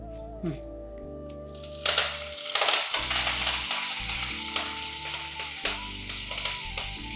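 Mustard seeds, fenugreek and cumin drop into hot oil for a Kerala sadya thoran and sizzle steadily with crackling pops, while a steady tone runs underneath at first.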